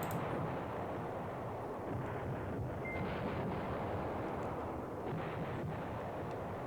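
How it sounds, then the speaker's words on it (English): Artillery bombardment in the war strategy game Command Ops 2, heard as a continuous low rumbling roar of distant shelling that persists steadily throughout, with no speech. "we did land some more artillery on them"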